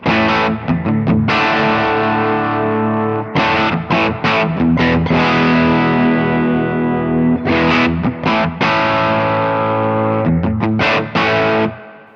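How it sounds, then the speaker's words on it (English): Heavily effected electric guitar chords through a drop pitch-shift pedal, strummed in bursts, sounding lowered in pitch and thick, with brief pauses between phrases and no talking. "The drop pedal. So I use this a lot actually."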